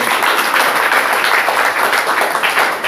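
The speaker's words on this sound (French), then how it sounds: "Applaudissons pour le Seigneur" A church congregation applauds together, a dense, steady wash of many hands clapping close by, loud and unbroken for a few seconds with little speech.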